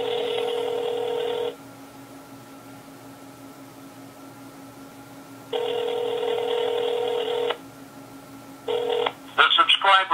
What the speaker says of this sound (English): I'll simply make a phone call to the device. And I'll put it on speaker